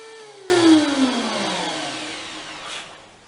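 A DeWalt DW734 thickness planer takes a board: the motor's whine drops sharply as the cutterhead bites with a loud roar, then the cutting noise tapers off gradually as the board feeds through, with no dust collection running.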